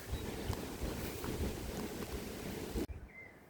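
Strong, steady wind in open countryside roars and buffets across the microphone with low rumbling gusts, then cuts off abruptly near the end, leaving quiet.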